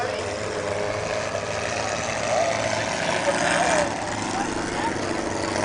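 A demolition derby car's engine runs at an outdoor derby in Plains, Montana, with a steady, droning idle that holds throughout amid the background noise of the event.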